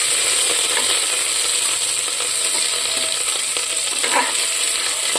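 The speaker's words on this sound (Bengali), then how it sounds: "তো আমটা আমি খানিকটা ভেজে নেবো" Soft raw mango frying in a pan with mustard seeds and dried red chilli, a steady bright sizzle with faint clicking stirs close by, no voices.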